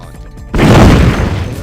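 A bomb goes off in Vampire: The Masquerade – Bloodlines, cutting through soft music with a sudden loud blast about half a second in, followed by a thick, sustained rumbling roar.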